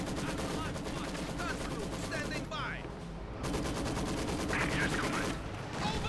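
Dense bursts of Maxim machine gun fire in Company of Heroes 2, two guns trading rapid rattling volleys from middle distance amid battle noise, with a commentator talking over them.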